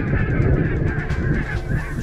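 A dense flock of geese honking continuously on Islay, many overlapping calls forming a loud, steady clamour with no pauses.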